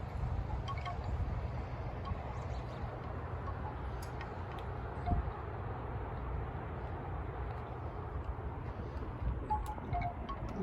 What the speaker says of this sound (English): we're just waiting until the wind goes away